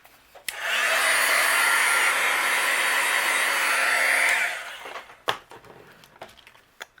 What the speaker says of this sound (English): I'm going to use my heat gun, and we'll go ahead and dry these.